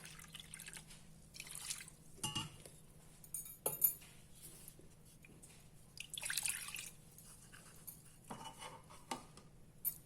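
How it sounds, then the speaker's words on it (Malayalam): Water poured into a bowl of rice flour, fine rava and curd batter, then stirred with a spoon, giving soft splashy drips and light clinks of utensil against the bowl in a quiet kitchen, without talk. "ഇനി നമ്മൾ ആവശ്യത്തിന് വെള്ളവും കൂടെ ഒഴിച്ച് ഇളക്കി വെക്കണം."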